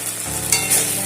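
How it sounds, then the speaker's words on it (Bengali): Spice paste with a small chopped tomato frying hard in a pan for a Bengali jackfruit curry with goat fat, a brief continuous sizzle with a couple of sharper spits, close and loud. "এবারে মশলাটাকে খুব ভালো করে কষিয়ে নেব।"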